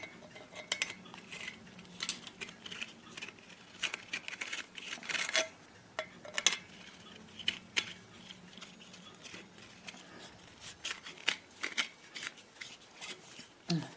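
A small shovel's handle is screwed into place, producing quiet, close, irregular scraping and ticking clicks of threads catching and turning.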